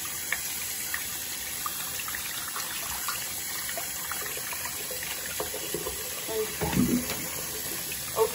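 Tap water runs steadily from a faucet into a sink while a Rovner Products ligature is rinsed off, a continuous close trickle and splash that swells briefly near the end.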